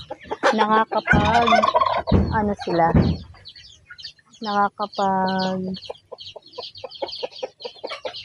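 Chickens cluck and squawk up close in short bursts with a few louder calls, while people talk faintly in the background.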